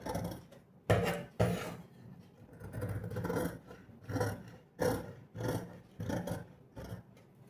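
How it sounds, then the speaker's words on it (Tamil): Scissors slicing through blouse fabric to shape an armhole, a run of rasping cuts in uneven bursts, close and fairly loud with no talking over them. "இப்போ வந்து அடிக்கை கைக்குழி நம்ம இப்படி வெட்டி எடுத்துக்கலாம்"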